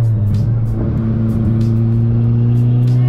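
A boosted ninth-generation car accelerates hard on public roads, its engine droning loud and steady close by as it holds against boost cut at three pounds of boost; no talk.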